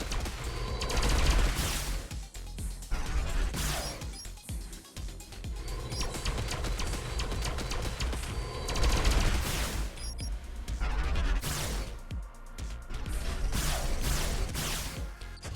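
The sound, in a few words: sword ship rapidly shooting in video game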